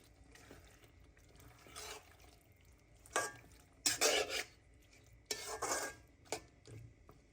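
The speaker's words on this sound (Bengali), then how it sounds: "এখন মশলার সাথে মাংসগুলোকে ভালোভাবে নেড়ে চেড়ে মিশিয়ে নেব।" Chicken meat and spices being stirred in a metal pot, a spoon scraping and clinking in short bursts with a few louder strokes, a faint sizzle underneath, close and with nobody talking.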